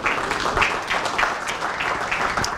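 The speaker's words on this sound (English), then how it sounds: "Would you please give him another round of applause?" Audience applause rising right after a motivational talk on persuasion, a dense continuous patter of many hands clapping close by for a few seconds, steady and fairly loud with no voices over it.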